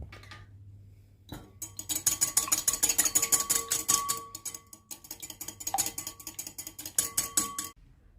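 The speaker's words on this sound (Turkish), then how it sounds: "Güzel bir kaba iki yumurtamızı ekleyip çırpıyoruz öncelikle" Two eggs are whisked briskly in a bowl for crepe batter, a fast steady rhythm of metal tapping and scraping that pauses briefly midway and then resumes before stopping.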